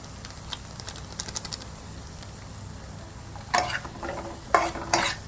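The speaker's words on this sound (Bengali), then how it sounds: "এবার আর একটু সামান্য জল দিয়ে মশলাটা নেড়ে নেব" Stirring a fried spice masala in a pan for Bengali-style katla fish curry, with soft scraping and light sizzle at first, then louder scraping bursts near the end.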